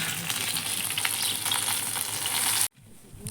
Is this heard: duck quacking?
no